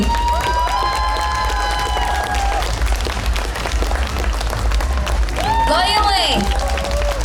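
An audience at an award presentation during a public event in Palanga applauds loudly and continuously, with whistles and cheering rising above the thick clapping, especially toward the end.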